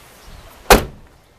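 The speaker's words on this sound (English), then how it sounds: "Try to close that door again." A 1989 Ford F-150 pickup door shuts once with a single solid thump, close and fairly loud, fitted with new rubber weatherstripping, with a quiet pause before it.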